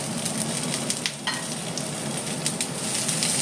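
Peas and capsicum frying in a pan with partly cooked vegetables for navratan korma, a steady close sizzle with a few stirring scrapes.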